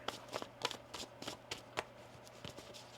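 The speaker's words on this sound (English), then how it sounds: "One more shuffle." A deck of tarot cards being shuffled by hand, a quiet run of soft riffling flutters and light taps repeating unevenly, close and faint with no talk.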